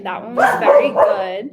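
A small dog, a Yorkie, barks and yips in short bursts close by, tangled with a woman's speech that runs over the barking.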